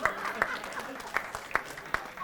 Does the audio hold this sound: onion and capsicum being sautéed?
no